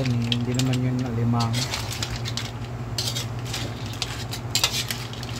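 Seafood with coconut cream and butter being stirred in a pan, with intermittent utensil clinks and scraping against the metal under a speaking voice and some low humming noise.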